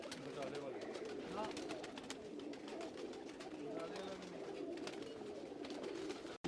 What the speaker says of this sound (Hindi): ये आपको इस वक्त हीरा लाल कबूतर एक दिखाने लगे हैं जो फॉर सेल कबूतरों में शामिल है